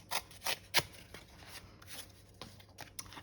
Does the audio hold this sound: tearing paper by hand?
yes